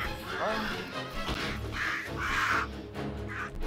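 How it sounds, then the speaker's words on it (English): Crows attacking in the video game Forspoken: several harsh caws ring out in quick succession over a rumbling game background, with a voice speaking at the same time. "I got bodied by some crows"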